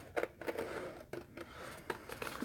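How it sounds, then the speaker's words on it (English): Scissors cutting a paper coloring page, with a series of close, crisp snips and slicing strokes at an irregular pace, fairly quiet and without talk. "take a pair of scissors, and I'm simply going to cut out the areas that I want to keep."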